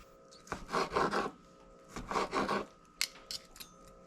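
Aluminum foil crinkling and rustling as chicken servings are wrapped for the freezer, two close bursts of crackly handling followed by a few lighter taps and rustles.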